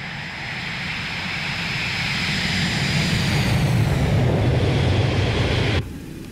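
A Boeing 727 jet in a flight simulator, flying into a hurricane, roars with a steady, loud engine drone that builds slowly, then cuts off abruptly near the end.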